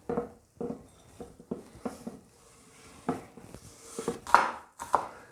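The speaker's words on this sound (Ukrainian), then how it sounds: "Дрібно подрібнюємо цибулю та додаємо її до капусти" A knife finely chopping onion on a cutting board in quick irregular taps, close and moderately quiet, with a few louder knocks near the end.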